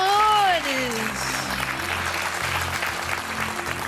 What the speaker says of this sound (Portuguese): Um aplauso para a nossa Patrícia.